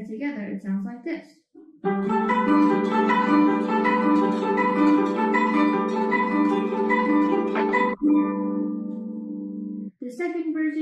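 A guzheng plays the water flow technique, strings swept from ring finger to thumb in a dense, shimmering run of plucked notes that rings on for several seconds, framed by brief speech before and after.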